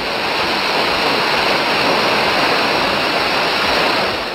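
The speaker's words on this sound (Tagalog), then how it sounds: "dito matatagpuan ang pinakamataas na talon sa buong Region 1" Aw-asen Falls, a 120-metre waterfall in Sigay, Ilocos Sur, roars as a loud, steady, broadband rush of falling water, close and unbroken, with no voices.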